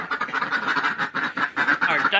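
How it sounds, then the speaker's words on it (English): Ducks quacking close by at a home garage during painting and wiring work, a busy chorus of repeated nasal calls overlapping one another with no talk. "our ducks are over here helping out."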